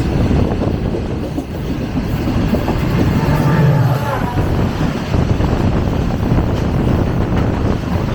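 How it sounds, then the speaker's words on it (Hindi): Passenger train, the 18 Down Millat Express, arriving at a station: loud, continuous rumble and rolling noise with wind buffeting, steady throughout with no clear voices on top. "अब अगला एक्शन 18 डाउन मिल्लत एक्सप्रेस।"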